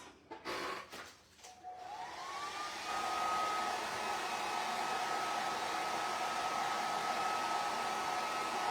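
A hair dryer dries a holiday home craft piece. A few handling knocks come first, then the motor whines up in pitch and settles into a steady, fairly close blowing hum that continues to the end.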